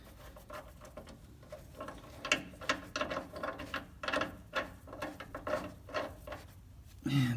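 Ratchet wrench tightening nuts on a fifth wheel rail kit under a 2017 Chevy Silverado 2500HD, a close run of quick clicking bursts in an irregular rhythm, with no talking.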